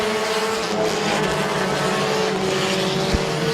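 Compact race cars roar around the oval at Midvale Speedway, a dense, continuous engine drone holding steady and loud throughout with no voices.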